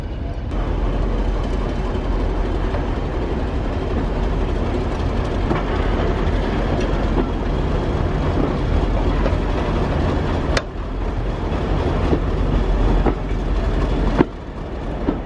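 A heavy diesel locomotive engine on the Severn Valley Railway roars steadily at close range, rumbling and building power as it accelerates, with a couple of sharp clanks partway through.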